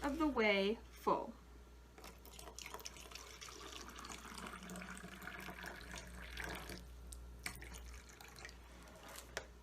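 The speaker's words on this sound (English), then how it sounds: "You want to pour it about 3/4 of the way full." Liquid trickles and splashes steadily as it is poured into wide-mouthed beakers for a kindergarten rainbow experiment. A short burst of speech comes first, then the pour runs on softly and continuously under a faint background.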